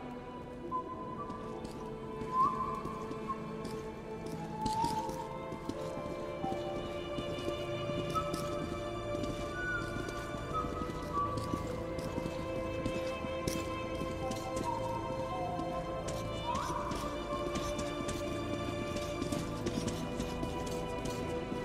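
Horses trot in the game Metro 2033 Redux with steady hoof clip-clops and occasional whinnies over a low ambient backdrop, continuing for about twenty seconds.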